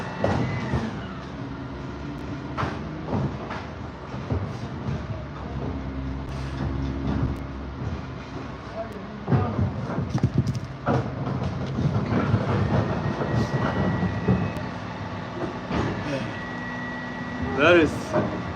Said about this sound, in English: The noise you hear in the back is there's some truck picking up some stuff.